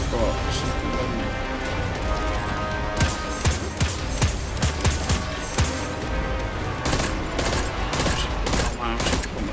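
A full auto weapon in Destiny 2 fires sharp, rapid bursts in quick succession with some louder impacts mixed in, and someone talks over the gunfire throughout.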